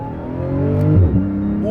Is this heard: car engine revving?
yes